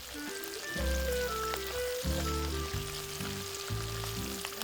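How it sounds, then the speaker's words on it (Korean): A steady sizzle of dried potato slices frying in oil hisses beneath sustained musical tones, the crackle constant and close throughout. "잘 말려두었다 꺼내 기름에 튀기면 고소한 냄새가 집안 가득 퍼지곤 했답니다"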